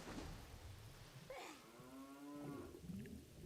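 A cow in the Ocarina of Time: Master Quest video game lets out one drawn-out tonal moo midway, heard under a rain-like background wash and low rumbling.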